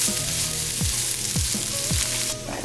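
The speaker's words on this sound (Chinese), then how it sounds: "现在要把葱白、姜和蒜放到里面去炒。" Scallion whites, ginger and garlic stir-fry in a wok over low heat for spicy Szechuan chicken, a steady bright sizzle broken by several sharp scraping strokes of the spatula, close and loud throughout.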